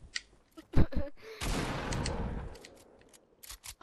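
Shotgun gunfire in the Fortnite video game: a few sharp cracks, then a sustained loud burst of shooting and faint clicks at the end, with no talk.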